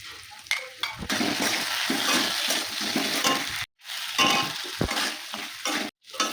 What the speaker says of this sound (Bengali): লবণ দিয়ে দেবো, হলুদ গুঁড়ো দিয়ে দেবো, ভালো করে কষিয়ে নেব